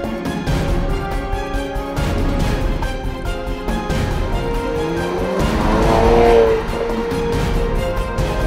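A rally car is driven hard on a Targa Newfoundland race stage, its engine loud and close and revving through rising and falling gear changes, with a brief tire squeal near the end.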